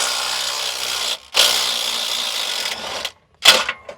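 An impact gun loosening a bolt through the subframe of an S550/S650 Mustang during a rear LCA bearing install: a loud, close, sustained rattling hammer burst, a brief pause, another long burst, then short final rattles.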